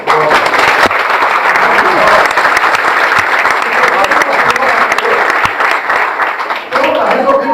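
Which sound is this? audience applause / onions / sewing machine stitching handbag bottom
audience applause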